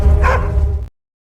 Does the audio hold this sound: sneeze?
no